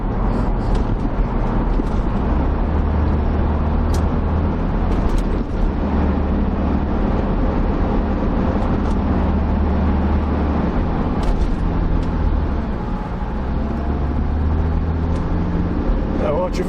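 A Land Rover Discovery 2 drives over a very rough road under braking, giving a continuous loud low rumble of engine and road noise with scattered knocks and rattles, while people talk inside.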